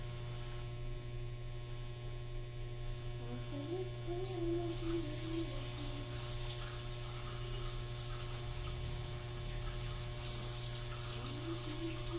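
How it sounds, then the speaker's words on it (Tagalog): Tap water runs steadily over tomatoes being washed at a kitchen sink, a constant close wash of flow with a low electrical hum underneath and no talking. "Hugasan muna natin na kamatis."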